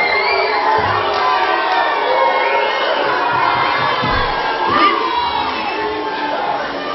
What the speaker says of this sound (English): Hold on your cheering, hold on your booing, hold on everything.